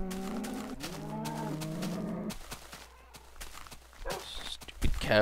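Cows in Minecraft moo in low drawn-out calls over a steady backdrop of blocky footsteps, with a faint voice speaking near the end.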